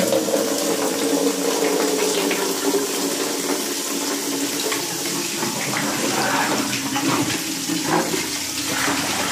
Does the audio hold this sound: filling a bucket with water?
yes